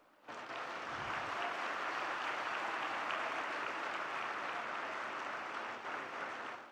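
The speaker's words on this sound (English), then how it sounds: "you deserve a huge round of applause" A large crowd at an ISB graduation ceremony gives graduates a sudden, sustained roar of applause that starts abruptly and holds steady and full for several seconds, dense with many hands and no speech.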